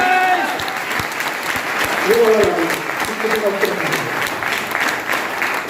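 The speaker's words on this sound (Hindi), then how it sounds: "एक बार थोड़ा मुस्कुरा के ताली वाली खुल के बजाइए" An audience at a motivational seminar claps in a sustained burst while a voice talks loudly over the applause.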